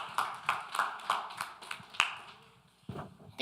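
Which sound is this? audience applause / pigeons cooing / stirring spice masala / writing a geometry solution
audience applause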